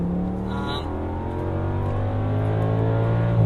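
A V10 Audi S6 with a six-speed ZF Tiptronic automatic pulls hard from inside the cabin, its engine drone rising steadily in pitch with a brief shift blip early on, loud and continuous.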